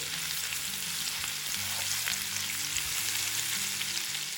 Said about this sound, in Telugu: ఇప్పుడు వీటన్నిటిని బాగా వేగనివ్వాలి